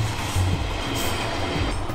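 A train rumbles steadily along the rails, a dense, loud low roar with faint rhythmic clatter and a brief high squeal, heard close from on board or trackside.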